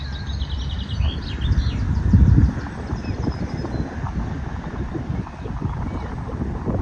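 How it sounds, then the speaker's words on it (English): Gusty wind blows across a paddock, buffeting the microphone with a constant low rumble, while faint birds chirp high in the background and a brief heavier thump sounds partway through. "Oh, very windy."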